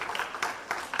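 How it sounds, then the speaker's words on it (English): An audience at a school award function for students applauds in a short burst of steady, fairly faint clapping. "We can clap a little less"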